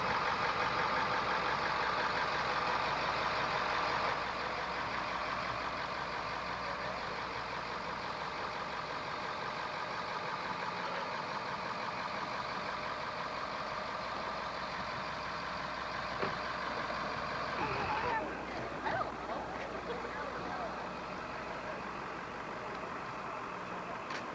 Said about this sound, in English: Well, the bus is here,